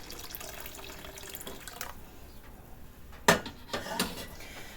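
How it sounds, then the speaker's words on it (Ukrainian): Broth is added to a pot of boiling potatoes for okroshka, making a quiet watery pour in a kitchen, then a couple of brief clinks from the pot. "додаю сюди бульйон"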